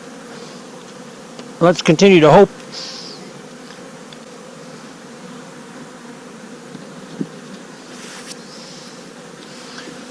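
Honey bees in a winter beehive on a warm January day make a steady, low, diffuse hum, with a short loud buzzing burst close by and a voice speaking briefly.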